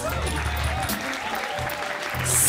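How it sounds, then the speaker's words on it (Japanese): An audience at a beatbox battle claps loudly, a burst of crowd applause that swells toward the end while a host's amplified voice talks over it. "まず2人の大きな拍手お願いします。"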